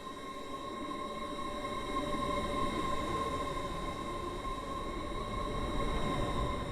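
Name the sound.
train approaching platform, from video game Stepford County Railway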